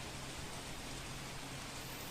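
Heavy monsoon rain pours down in the Upleta area of Rajkot, Gujarat, a dense and unbroken downpour that stays even in loudness throughout.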